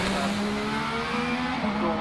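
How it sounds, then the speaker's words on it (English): A hillclimb race car with a Cosworth KF V6 engine passes by at Loton Park, its steady, loud engine note holding close for two seconds with no talk over it. "Mark Coley goes past us"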